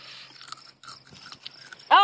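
A June bug being crunched and chewed up close, with irregular wet crunches and bites in short bursts that end in a sudden loud vocal outburst.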